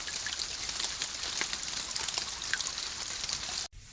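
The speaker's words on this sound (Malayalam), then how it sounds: "എന്ത് മഴയാണത്?" Steady rain pours down outdoors, a dense, even hiss of falling drops that fills the scene for several seconds before cutting off abruptly near the end, with no voices.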